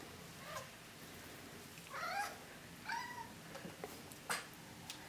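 A cat meows several times, short rising cries spaced a second or so apart, fairly close over a quiet background with faint patter.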